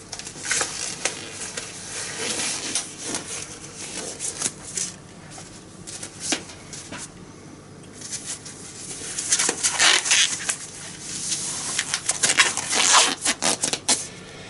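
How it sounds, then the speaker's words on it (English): Disposable gloves pulled onto hands close by before work on a clogged EcoTank printer nozzle: bursts of crinkly rubbing and snapping, louder and busier toward the end, with no talk. "So I'm just going to pop some gloves on."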